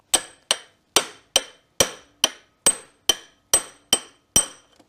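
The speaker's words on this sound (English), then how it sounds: "Aluminium drift, harder smack." A hammer strikes an aluminium drift to free a stuck starter motor on a Peugeot 306 HDi, eleven sharp metallic smacks at an even, unhurried pace, close and loud with brief ringing decay.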